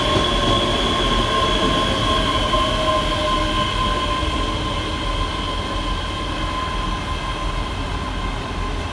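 Class 385 electric train running through Edinburgh Haymarket station, a loud steady rumble of wheels on rail with metallic squeal and tonal whine holding throughout, close by and continuous without talk.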